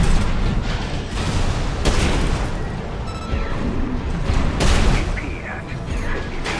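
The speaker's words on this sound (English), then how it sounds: "He has a grenade launcher." Heavy booming blasts from a grenade launcher in an Armored Core 6 mech battle. Several loud explosions land at irregular intervals over a constant mechanical din, with a voice talking in between.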